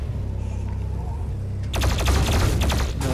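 Rapid gunfire in the video game Doom Eternal: after a steady low rumble of game sound, a dense, loud barrage of repeated shots breaks in and keeps hammering for over a second, with no speech.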